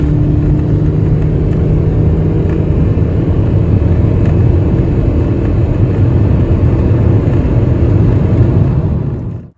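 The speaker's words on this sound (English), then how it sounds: "Just listen to all that horsepower." Heavy vehicle stuck in mud or snow with chains on its wheels, engine roaring steadily and loud at high revs for the whole stretch, close by, then cutting off at the end.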